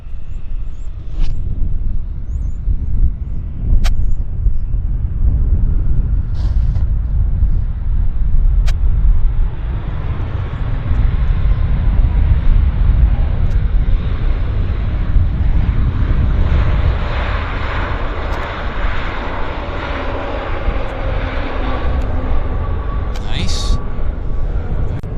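Airliner touching down at Vancouver International Airport, a steady loud jet rumble and roar from a distance that swells through the landing roll, with someone talking over it.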